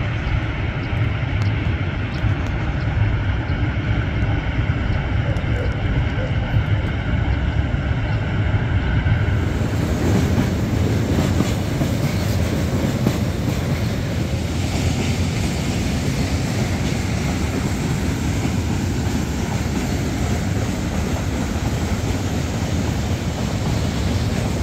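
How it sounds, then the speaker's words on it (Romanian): A train rolls past on the rail line at Buzău, a loud continuous rumble and clatter that holds for the whole stretch and swells brighter midway as the cars go by close. "vine și un tren, ar fi bine să-l prind"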